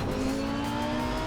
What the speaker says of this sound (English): not just the engine, but the clatter of rocks, all the metal in your car that's banging